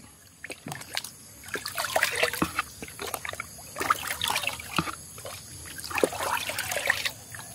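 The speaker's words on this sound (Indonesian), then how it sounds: "kita aduk sampai rata kita aduk ya supaya larut" Liquid sloshes and swirls with repeated splashy strokes as about half a liter of water is stirred to dissolve fertilizer for eggplants, close and moderately loud, in irregular bursts.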